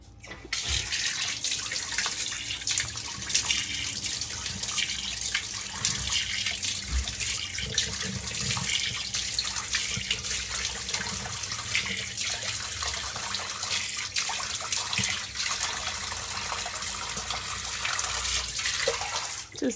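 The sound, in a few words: running tap water, washing off a face pack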